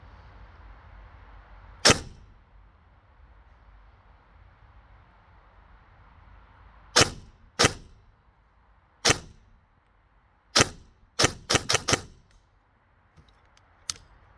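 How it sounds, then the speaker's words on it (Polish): Sharp, dry shots from an airsoft PRIME replica rifle fired at a distant target outdoors: a lone crack, then a pause and a run of single shots, several in quick succession near the end, with quiet background between. "No troszkę strzałów padło na tym dystansie, jednak kulki przelatują czasami obok."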